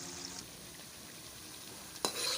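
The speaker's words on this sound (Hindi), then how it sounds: "आलू फ्राई हो रहे हैं।" Potatoes fry in a pan with a soft, steady sizzle heard up close and quiet, broken by a sharp scrape or clatter of a spoon near the end, with no voices.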